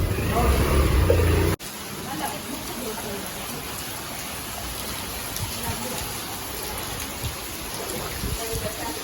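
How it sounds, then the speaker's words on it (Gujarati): Steady, dense hiss of heavy rain pouring down in Vadodara, flooding into a house, broken at the start by a brief loud rumbling burst that cuts off abruptly. "ખતરનાક વરસાદ પડે છે."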